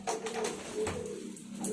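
A bandangan dove coos in courtship, repeated low, rounded calls coming close and clear in a few bursts, with faint clicks and rustles between them.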